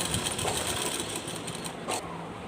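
A sewing machine runs steadily, stitching the lower panels of patiala pants, with a dense continuous whir and small rhythmic surges throughout, close and fairly quiet.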